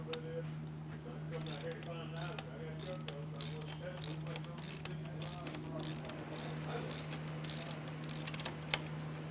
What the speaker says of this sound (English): To tighten it, you're going to need a 3/4 deep well socket.